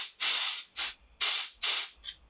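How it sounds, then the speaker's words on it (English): Compressed air blasted through a car fuel rail, off a Porsche 924 S Turbo during a build, in four loud, close hissing bursts of about half a second each, with a short fainter puff at the end. "compressed air through."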